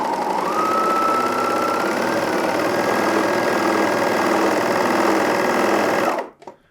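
A Juki MO-2000QVP overlocker stitches fabric using its differential feed, a loud, steady high-speed mechanical whir running continuously for several seconds before stopping abruptly.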